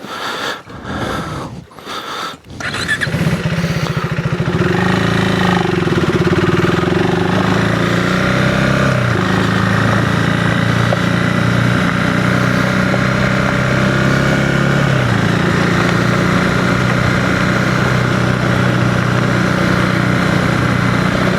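A 2025 KTM 390 Enduro R on Pirelli MT21 front and Tusk D-Sport rear tires rides on a road, its engine droning steadily and loudly after a few brief bumps of wind or handling noise at the start, with no talk.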